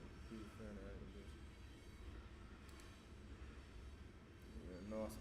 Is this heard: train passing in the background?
yes